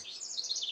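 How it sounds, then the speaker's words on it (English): Small birds chirp and tweet in quick, high, overlapping calls, faint and fairly close, with otherwise quiet surroundings. "Tell them fucking birds to shut up."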